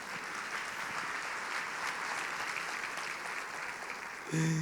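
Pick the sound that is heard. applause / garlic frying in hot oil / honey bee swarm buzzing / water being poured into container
applause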